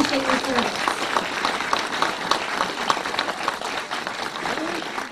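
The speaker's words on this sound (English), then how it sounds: "let's give them a round of applause and their families." An audience applauds veterans and their families at a TV show taping. Continuous clapping from a room full of people goes on throughout, with a few voices calling out early on under the clapping.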